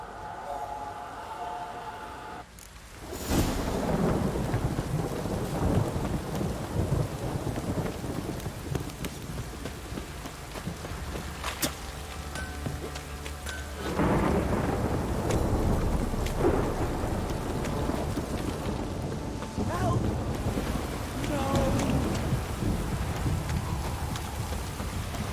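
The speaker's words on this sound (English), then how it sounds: "This downpour's a bastard, it is." In The Witcher 3: Wild Hunt, a game thunderstorm pours heavy rain throughout, with a loud thunder crack near the start and rolling rumbles later. A voice speaks briefly under the downpour.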